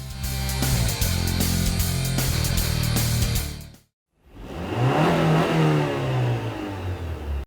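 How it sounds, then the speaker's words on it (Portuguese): Motorcycles race past at Lagoa da Pampulha, each engine roaring loud and close, revving up and fading, then a short silence before another bike sweeps by. "as bikes passando aqui a zilhão"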